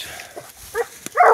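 Coon hunting dogs bark on an Iowa public hunting ground: a few short, sharp barks at moderate distance, the last one louder and held a little longer, with quiet pauses between them.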